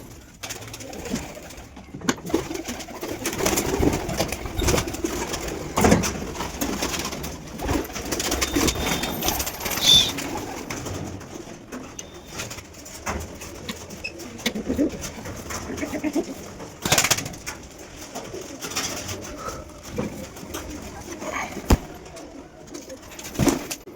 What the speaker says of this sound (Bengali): তো চলো পায়রাগুলোকে আগে সবকে ছেড়ে দিই।